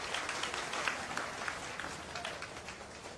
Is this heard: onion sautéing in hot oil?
no